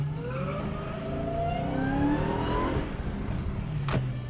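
Car on a practice lap around an autocross cone course, engine climbing and falling through the gears with steady drone and a brief sharp knock near the end.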